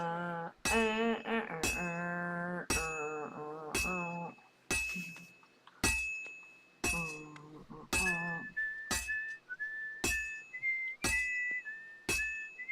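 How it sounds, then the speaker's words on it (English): A character whistles a tune in the video game Kingdom Come: Deliverance II, clear held notes in short phrases broken by sharp clinking hits, later shifting to a thinner, wavering whistle line. "I can never get him to do a full whistle song."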